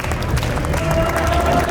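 Audience clapping at a French quiz battle semi-final, a steady broadband patter of applause filling the short clip at a constant level, with some crowd noise and a faint tone in the background.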